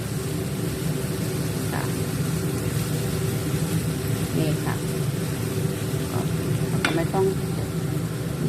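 Noodles with mixed vegetables being stir-fried in a pan give a steady broadband sizzle with occasional clinks and scrapes of the utensil, continuous and close throughout.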